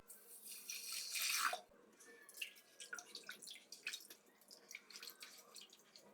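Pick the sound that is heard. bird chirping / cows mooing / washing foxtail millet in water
washing foxtail millet in water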